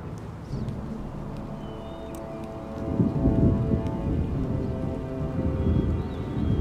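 In the Empire: Total War video game, steady rain patters under low rolling thunder that swells midway and keeps rumbling, with no talking.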